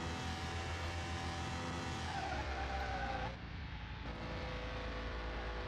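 A 1993 Sakura Supa from the game Car Mechanic Simulator 21 drives around a track corner, its engine a steady droning hum with rising and falling pitch and a brief dip as it eases through the bend, heard close and alone.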